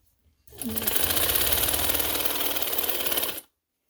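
A sewing machine stitches a seam in a leg of a garment, a close, rapid, even mechanical chatter that starts abruptly, runs steadily for about three seconds and then stops.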